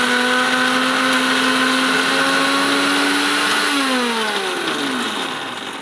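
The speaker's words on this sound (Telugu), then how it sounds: "మిక్సీకి వేస్తానా" A kitchen mixer grinder crushes dried red chillies with a loud, close, steady motor whine that then drops in pitch and fades as the machine slows down.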